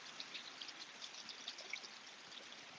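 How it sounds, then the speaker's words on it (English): A mountain stream flows down toward a waterfall, a steady faint rushing and trickling that stays even and continuous throughout, with small bright splashes scattered over the flow. "I don't know if you can hear the water there."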